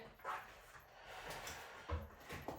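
A puppy barks during a kettlebell and bodyweight workout at home, giving several short, faint yips scattered through soft background noise.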